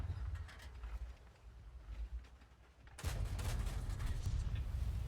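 Tank cannon fire in World of Tanks from a Covenanter light tank, a low rumbling backdrop building to a heavier burst of booming blasts and battle noise in the final two seconds, no talk.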